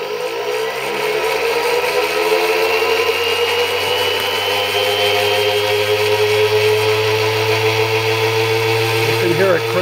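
A homemade electric motor with an aluminum rotor and neodymium magnets spinning up toward about 6,800 RPM, giving a steady loud whine and hum that rises slightly in pitch as it accelerates, heard close and continuous.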